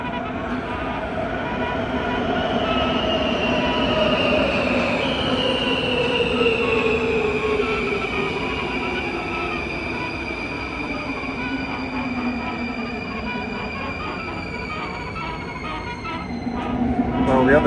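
A Skoda-built Warsaw Metro train on the M1 line runs along underground, with a steady loud rumble, a whining motor tone sliding down in pitch, and metallic wheel squeals rising near the end.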